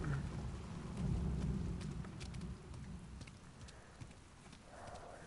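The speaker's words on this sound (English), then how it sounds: "there's the thunder" Thunder rumbles low and steady through rainfall in Uncharted: The Lost Legacy, a broad rolling roar that swells then eases, with a scatter of sharper crackles over continuous rain noise.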